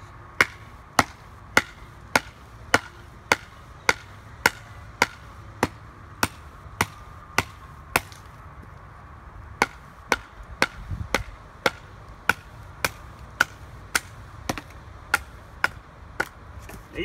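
Steady, evenly spaced sharp knocks of a baton striking a knife spine while splitting fresh-cut hardwood, roughly two or three blows per second with a brief pause midway, close and crisp.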